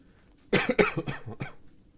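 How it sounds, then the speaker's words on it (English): Someone getting over a cold gives a burst of four or five harsh, chesty coughs in quick succession, close and loud after a second of quiet. "Can't stop coughing."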